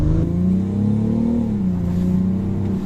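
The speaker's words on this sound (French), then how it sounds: "Mais même le bruit du moteur, c'est un gasoil le truc." Diesel engine of a 2022 BMW X4 M40d with Stage 1 tuning revving, heard as a loud, close, continuous drone that climbs and then settles, with no talk over it.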